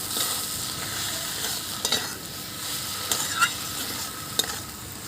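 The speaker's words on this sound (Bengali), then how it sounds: "এইভাবেই রান্নাটা হবে নাড়াচাড়া দিয়ে" Food being stirred and tossed in a hot pan in a village kitchen, a continuous close sizzle with occasional scraping clicks of the spoon, no voices.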